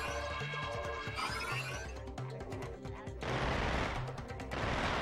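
Rapid machine gun fire from a controlled receiver bot in Ratchet & Clank: Going Commando, bursts rattling over game music and effects, loud and continuous with a denser stretch near the end.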